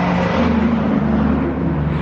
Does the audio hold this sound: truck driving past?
yes